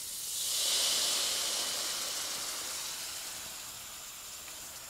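Water poured into curry spices frying in hot oil for a shark curry, giving a loud, close, steady hissing sizzle that swells in the first second and then slowly fades, with no talk.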